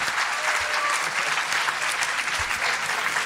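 An enthusiastic audience applauds at a French public meeting, a dense, even burst of clapping that runs without a break from start to finish.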